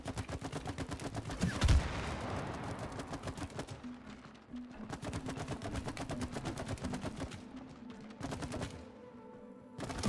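Gunfire in It Takes Two, rapid evenly spaced shots fired in long streams with brief pauses between bursts, fairly quiet and steady.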